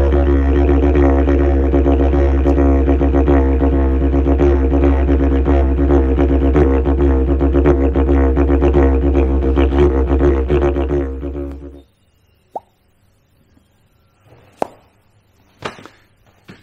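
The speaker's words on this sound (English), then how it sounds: "So when you get your Yidaki, then you start to play it." A continuous low droning didgeridoo (yidaki) rumbles steadily for about twelve seconds, then stops, leaving a few faint clicks and taps.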